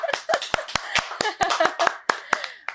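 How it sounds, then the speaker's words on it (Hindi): Live clapping from a studio audience on a Hindi quiz-style show, about a dozen sharp, separate claps close by in an uneven rhythm, with no talk over them. "तालियां।"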